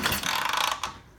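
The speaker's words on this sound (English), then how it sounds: "I'll walk around here and kick the motor over and you may be able to see a spark." Vintage British motorcycle engine being kicked over during a repair, a brief close mechanical clatter and ratcheting whir lasting about a second.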